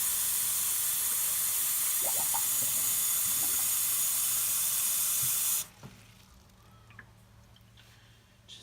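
Running tap water pours steadily with a bright hiss into a Brita filter pitcher, then shuts off abruptly, leaving a quiet room with faint drips and clinks.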